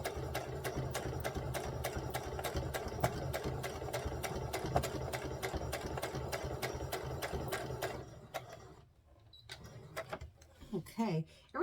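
A sewing machine stitches rick rack trim onto a Simplicity 3522 dress in a rapid, even run of needle strokes that stops after about eight seconds, with a person talking over it.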